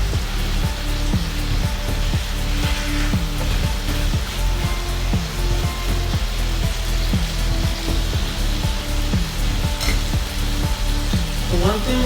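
Bacon sizzles and fries loudly in a pan while burgers wait to be cooked, a steady dense crackle and hiss with repeated scraping stirs, close and continuous, no talk.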